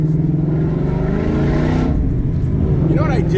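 Car engine with a loud exhaust at an outdoor morning car show, a steady rumbling drone that swells briefly near the end, with people talking nearby.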